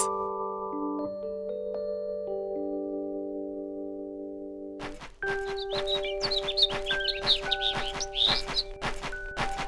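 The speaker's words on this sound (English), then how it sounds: "A migratory bird." Birds chirp and tweet in the video game Star Ocean: Till the End of Time, rapid bright calls over sustained musical tones and a rhythmic beat, after a stretch of calm chiming music.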